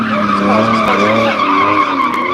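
Loud, sustained engine and tire noise from a 6.5 litre V12 plug-in hybrid car at a British motor show, a dense roar with shifting tones close by, no voices.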